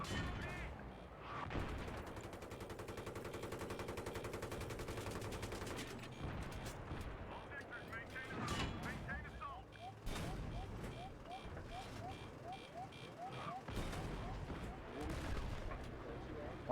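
Battlefield 3 combat gunfire, rapid automatic bursts and heavy booming blasts layered over a continuous rumble, with someone talking throughout.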